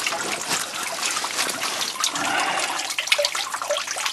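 Water trickling and splashing steadily inside a flooded old coal mine entrance, a continuous bright rushing-dribbling sound at moderate loudness with no speech.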